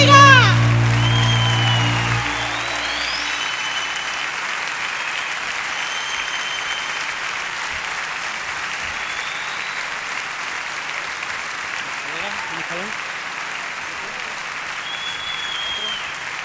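A church plenary audience gives sustained applause, a dense, even wash of clapping that continues steadily after music fades at the start.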